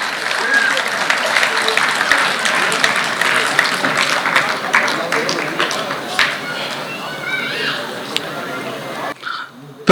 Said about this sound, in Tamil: உங்கள் கரகோஷங்களால் அவர்களை நீங்கள் பெருமைப்படுத்தலாம்